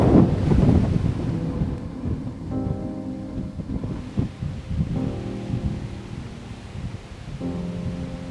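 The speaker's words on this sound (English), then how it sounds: "It's getting really windy up here." Strong wind on a hilltop in Colombia between Raquira and Sachica, roaring and buffeting close against the microphone in uneven gusts.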